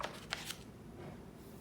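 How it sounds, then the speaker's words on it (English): An old X-Men #1 comic book page is turned by hand, giving a few quick papery rustles early on before near silence. "I'm going to page turn."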